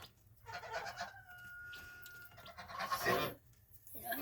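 Hens cluck and call in a quiet backyard flock, a few faint bursts of clucking and drawn-out squawks spread across a few seconds with no talk.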